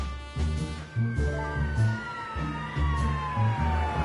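A video game character mimics a police siren with his mouth, a voiced rising and falling wail repeated in short bursts over a rhythmic musical backing, fairly loud and close.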